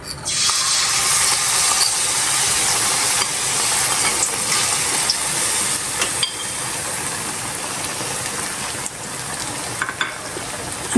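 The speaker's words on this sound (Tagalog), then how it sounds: "Sunod naman nating iprito sa mainit na mantika." Vegetable fritters made from a mixed batter sizzle steadily in hot oil, a loud, continuous close-up crackle and hiss with no talking.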